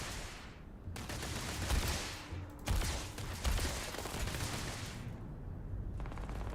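Sustained gunfire from a weapon in the space game Starfield, dense bursts of rapid shots with brief pauses between volleys, loud and close, with no talking over it.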